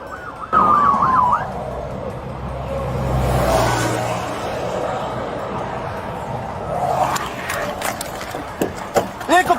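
Police car siren wailing in a rising and falling pattern during a high-speed highway pursuit, loud and near at first, then fading under engine and road noise before sharper siren bursts return at the end.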